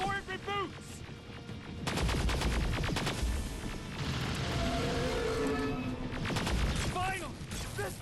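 Heavy gunfire from the first-person shooter Terminator Resistance: sustained loud bursts of rapid shots and booms fill most of the stretch, with brief quieter moments at the start and end, over busy game sound.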